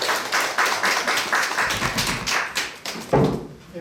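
Applause from a lecture audience welcoming a guest speaker at the opening special lecture of a Buddhist hundred-day Dharma talk series, with dense, steady clapping that swells briefly near the end.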